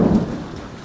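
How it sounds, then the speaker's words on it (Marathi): A deep rumble of thunder rolls under a steady wash of heavy rain on a camping tent, loud at first and then easing slightly. "पाऊस आलाय जोरात"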